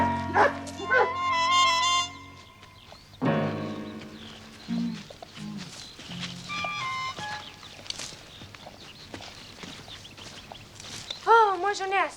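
A police dog barks, yips and whimpers during a search in a 1978 French TV series. The sounds come in short bursts of varying loudness, mixed with people talking and other scene sounds.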